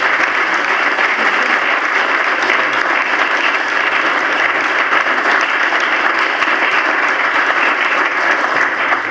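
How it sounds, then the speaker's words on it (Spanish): An audience at a priests' gathering claps in sustained, dense applause, loud and steady from start to finish with no talking over it. "todos merecéis el aplauso que ya damos para concluir"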